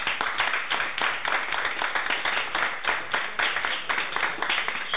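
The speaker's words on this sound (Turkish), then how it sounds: "Önce bir kendinizi bir alkışlar mısınız?" An audience at a live poetry performance by Küçük İskender gives itself a round of applause, with thick, continuous clapping from many hands, moderately loud and sustained throughout, without speech.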